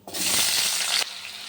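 Green plantain and potato hitting hot oil in a pan with cumin and bay leaf: a sharp, loud sizzle bursts up, holds for about a second, then drops to a softer hiss.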